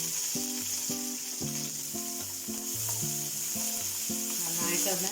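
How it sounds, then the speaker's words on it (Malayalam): Cumin and mustard seeds sizzle in hot coconut oil with a steady, close hiss, while a loud melodic background tune plays throughout. "ജീരകമൊക്കെ പൊട്ടി."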